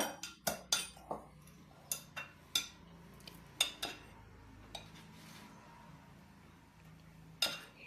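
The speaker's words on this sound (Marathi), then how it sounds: "मी त्यात आता दही टाकायचे" A spoon clinks against a bowl while curd is added to chopped cucumber and coriander salad, giving a dozen or so light, irregular metallic taps close by in a quiet kitchen.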